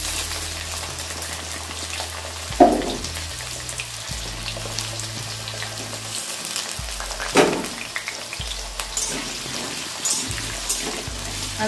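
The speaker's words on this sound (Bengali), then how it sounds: "আলু কটা লাল করে ভেজে নেব।" Potatoes fry in a wok with a steady, close crackling sizzle and occasional utensil knocks, while a low hum runs underneath.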